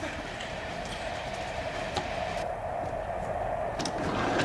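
Steady low rumble of a moving train from inside a carriage, with continuous rolling noise and a few faint clicks.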